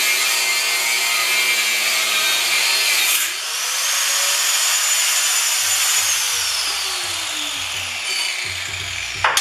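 An angle grinder works on tack welds on an El Camino, a continuous high whine with shifting pitch as the disc bites and eases off, close and steady.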